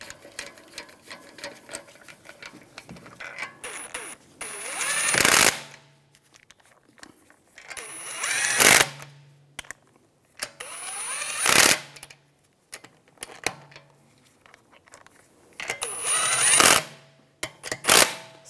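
Wheel lug bolts on a 2009-2013 BMW 328i xDrive are run in with a power tool, giving several loud bursts of rapid ratcheting hammering at intervals, separated by quieter clinks and handling noises.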